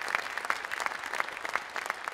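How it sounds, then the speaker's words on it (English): A sparse, fairly faint round of clapping from an audience at a charter school film screening, individual claps distinct and irregular rather than a dense roar. "Give him a round of applause."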